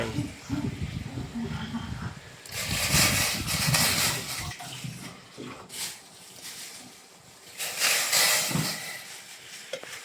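A pot of water boils with pepper sauce, salt and pork for a chap chai stew, giving a steady hissing, bubbling rush that swells in loud waves under faint background voices.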